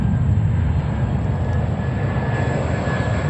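A Delta Boeing 767 heavy jet at JFK airport gives a steady, loud engine roar with a constant broadband rumble and a faint high whine, continuous for the whole moment with no voices.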